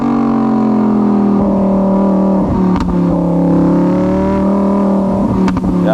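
A V10 supercar engine rumbles steadily with a deep, even drone, rising slightly in pitch at times, close and loud with no talking.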